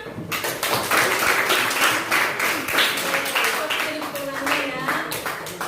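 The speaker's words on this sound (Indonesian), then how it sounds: "Tepuk tangan." A classroom of students bursts into hand clapping, a dense, steady patter of many hands lasting several seconds, with voices mixed in.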